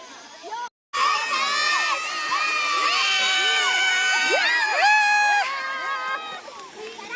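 Crowd of school children shouting and cheering at a kabaddi game, loud and continuous with many overlapping high voices, after a brief drop near the start.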